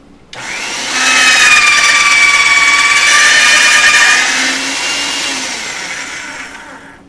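Polymer clay being fed through a pasta machine, heard close as a loud, steady mechanical whir with a high tonal whine. It holds for several seconds, then eases to a lower hum and fades near the end.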